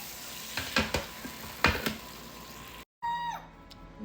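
A hot steak sizzles with sharp bursts and scrapes as it is handled in the pan, loud hisses that fade between strokes, followed after a short gap by a softer tail.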